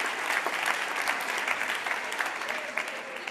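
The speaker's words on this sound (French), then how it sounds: "On peut l'applaudir, bien sûr, on peut l'encourager." Audience applause at an e-tourism startup contest, greeting a candidate: steady, moderately distant clapping from a crowd throughout, with a voice faintly present underneath.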